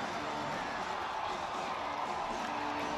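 A hockey arena crowd in Jacksonville roars steadily after a late goal, a dense, sustained wall of cheering and whooping that stays loud and even throughout with no pauses.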